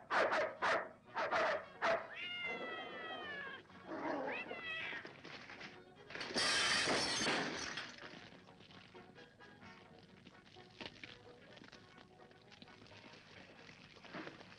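A dog barks a few times in short bursts, mixed with a cat's drawn-out meows and whines, fairly close.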